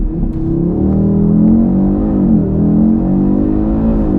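An Audi RS3 engine surges hard and close under launch control in performance mode, its tone rising and shifting through gears as it accelerates strongly, no voices.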